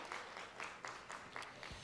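An audience at a church talk claps in a quiet, brief round of applause, a few distinct rhythmic claps in quick succession heard faintly at some distance.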